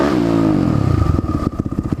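A new motorcycle revs up hard close by, its engine note climbing, then shifting into a rough, pulsing throb as it accelerates away.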